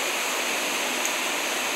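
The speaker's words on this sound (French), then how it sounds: "voilà une belle rivière souterraine, magnifique, superbe" Underground river rushing through a cave in a limestone chasm, a steady, dense hiss of flowing water that fills the space evenly with no talk over it.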